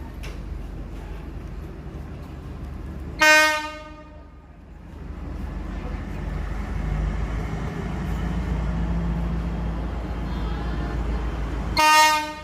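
The horn of Thai ordinary-class passenger train No. 258 sounds loudly twice, about nine seconds apart, with a steady rumbling wash of the passing train between them.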